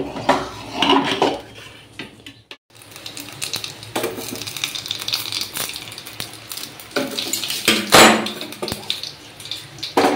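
A pot of khichuri is taken off the stove in a home kitchen, with close metallic clanks of dishes and utensils scattered across the whole stretch and a brief quiet gap early on.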